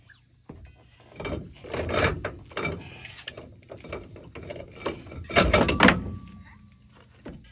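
Metal clunks and scraping knocks of a shock absorber being wrenched loose from a 2022 Ram truck during a 6-inch lift kit install, with a loud heavy thud near the middle and scattered mechanical rattles around it.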